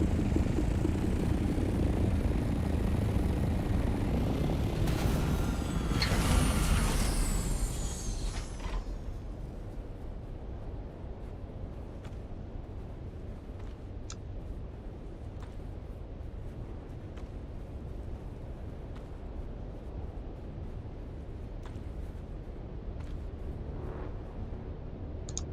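Helicopter in the video game Dune: Awakening, a loud rotor roar with a rising whine that swells over the first eight seconds, then settles into a steady, quieter engine rumble for the rest.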